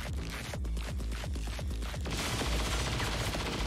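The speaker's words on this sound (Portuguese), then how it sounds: "Observe ele acertando o tiro no Arnold mais uma vez" Rapid bursts of gunfire from the video game XCOM 2: War of the Chosen, a quick series of sharp shots followed by a denser wash of firing, fairly quiet and with no talk.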